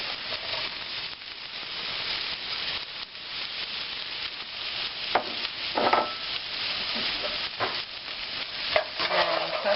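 Onions and bacon fry in olive oil in a pan, a constant close hiss and sizzle with occasional stirring scrapes and louder spits, with no voices.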